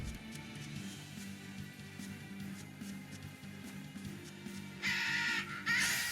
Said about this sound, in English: Squawk, squawk.